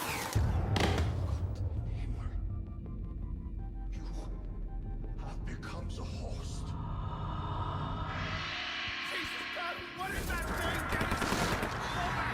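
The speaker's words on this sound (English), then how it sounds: "we get shot and killed by mercenaries" Bursts of mercenary gunfire in the horror video game Outlast crackle in rapid volleys, loud and close, over a dense game soundscape while a narrator talks over it.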